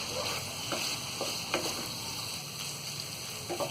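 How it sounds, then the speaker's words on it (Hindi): Potato keema masala (aloo keema) roasts in a pan as a faint, soft sizzle with occasional light stirring clicks. "तो सारी चीज़ों को डालने के बाद में हम इसे अच्छी तरह भून लेंगे।"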